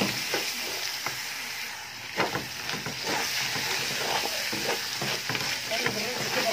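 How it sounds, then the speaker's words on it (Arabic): Rice stirred into golden toasted vermicelli in a hot pot for Egyptian koshari, giving a continuous close sizzle and hiss with soft scraping stir strokes throughout. "نقلب الرز بالشعرية"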